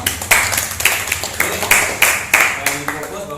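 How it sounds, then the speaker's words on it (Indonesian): A group of students in a school group counselling session claps hands together in loose rhythmic bursts, loud and close, roughly a dozen strong strokes with a voice underneath. "Oke, tepuk tangan untuk semuanya"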